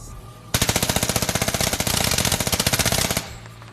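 Rapid machine gun fire in a film scene, a loud sustained burst of closely spaced shots lasting nearly three seconds, starting abruptly after a quiet moment and stopping sharply.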